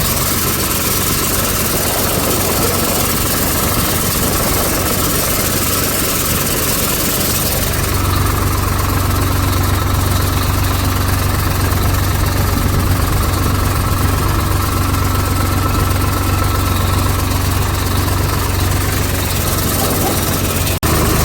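A tractor engine drones at a steady idle-like rumble while it spreads fertilizer in a farm field. It is loud and continuous and grows heavier about a third of the way through, with no talk over it.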